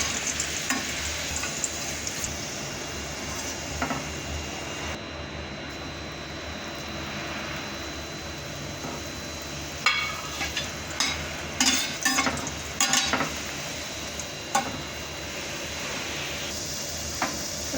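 Modaks fry in a small amount of ghee with a steady, soft sizzle throughout, joined midway by a few sharper scraping and stirring clatters.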